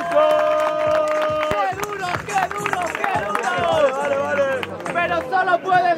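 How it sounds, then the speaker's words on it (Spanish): A rap battle crowd breaks into clapping and cheering amid loud chatter and shouting, with voices talking over the noise throughout. "¡Aplausos!"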